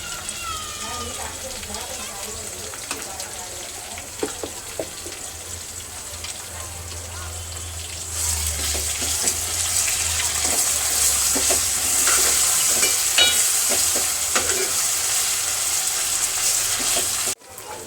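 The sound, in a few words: homemade ginger garlic paste sizzling in pan for misal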